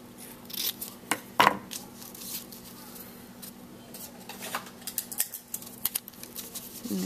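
Scissors trim an overlong piece of paper for a handmade greeting card, giving several quick close snips and light rubbing of paper in a quiet room.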